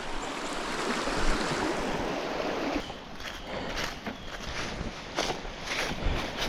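Steady broadband rush of flowing water, close and continuous, like a creek running over rocks, with some wind and faint rustling toward the end.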